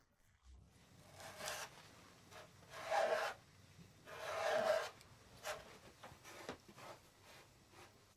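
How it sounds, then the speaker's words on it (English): Soft, intermittent rubbing as a mixture of wood lacquer and tonoko earth powder is worked into linen, quiet strokes rising and fading in a loose rhythm. "Apply a mixture of wood lacquer and fine particles of earth called tonoko onto linen as if rubbing it in."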